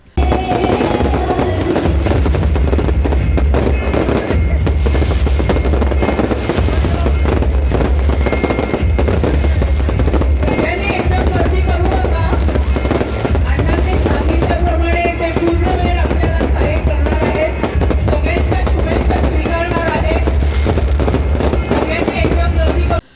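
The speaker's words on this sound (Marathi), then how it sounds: "फटाक्यांच्या आतिषबाजीसह मोठ्या उत्साहात वाढदिवस साजरा करण्यात आला" Fireworks and firecrackers going off at an outdoor birthday celebration, a dense, continuous run of crackling bangs and pops, loud throughout, with a crowd faintly audible underneath.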